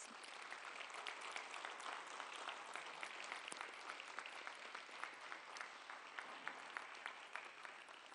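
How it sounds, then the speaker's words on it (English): An awards ceremony audience applauds the judges, a steady, dense wash of many hands clapping that continues evenly for several seconds, heard from a distance and fairly faint. "let's give them a big round of applause"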